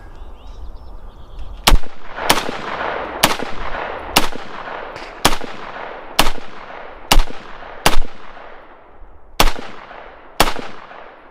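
Ten rifle shots from a We the People 2020 build on a shooting range, each a sharp, loud crack with a trailing echo, fired at a steady, slightly irregular pace over about ten seconds.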